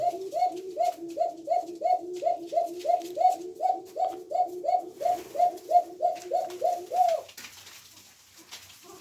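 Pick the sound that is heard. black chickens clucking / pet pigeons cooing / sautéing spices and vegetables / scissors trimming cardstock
pet pigeons cooing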